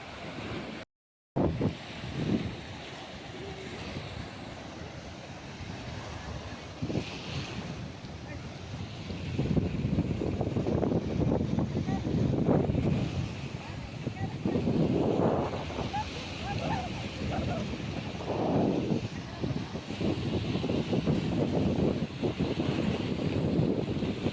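Ocean surf at a beach in Muscat, Oman, a steady rushing wash of waves under gusty wind buffeting the microphone, growing louder partway through, with no one speaking.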